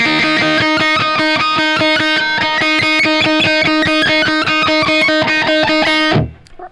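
Distorted electric guitar plays a fast run of evenly repeated picked notes, the tone shifting as the pick strikes different places along the strings, loud and close, before being cut off abruptly near the end.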